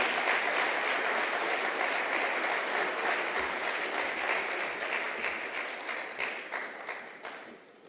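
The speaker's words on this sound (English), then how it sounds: "Keep the applause coming, man." Audience at a Jamaica Constabulary Force graduation ceremony applauding in a long, dense wash of clapping that fills the room, staying loud before gradually thinning and fading toward the end.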